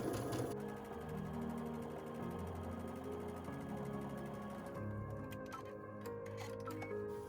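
Domestic sewing machine stitching a quarter-inch seam on quilted Christmas table runner pieces, a quiet, steady, rapid mechanical whirr with fine ticking, ending in a few light clicks.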